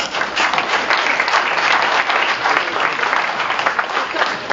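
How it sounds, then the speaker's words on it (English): Steady, full applause from a banquet audience honoring a former labor center director named Cindy, dense clapping holding at an even level throughout. "let's clap for Cindy"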